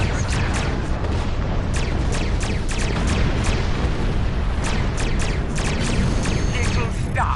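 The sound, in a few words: energy weapons firing in the video game Star Trek Online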